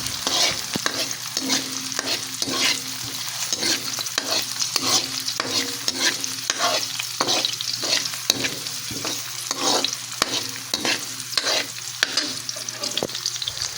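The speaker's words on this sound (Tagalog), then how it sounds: "Hahaluin lamang po natin palagi para hindi ka agad-agad masunog ang ating bawang at sibuyas." Garlic and onion sizzle steadily in a pan (kawali) for laing sa gata while a utensil scrapes and stirs in quick, repeated strokes, close and clear, with no talking.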